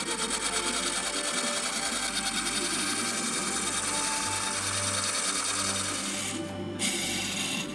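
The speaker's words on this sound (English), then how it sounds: "Powered by water pressure, the drill slowly carves into the reef." A water-pressure-powered drill bores into coral reef underwater, a continuous grinding, rasping whir with a low steady hum beneath, briefly shifting in tone near the end.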